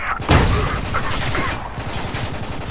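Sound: gunfire in Spec Ops: The Line video game

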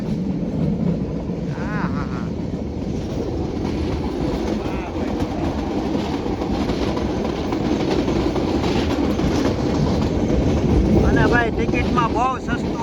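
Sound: train running on tracks

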